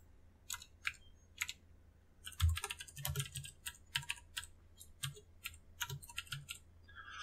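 Steady typing on a computer keyboard, a quick run of close, crisp key clicks with brief pauses while Java code is entered, no voice.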